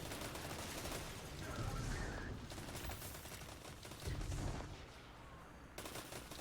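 Rapid bursts of gunfire from the shooter video game Destiny 2 crackle in quick clusters, fairly quiet overall, with several volleys overlapping across the span.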